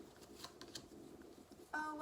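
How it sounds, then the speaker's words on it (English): Tarot cards being shuffled by hand, a soft papery riffling and sliding that runs quietly throughout, with speech-like sounds faintly present and a louder burst near the end. "Let's keep shuffling."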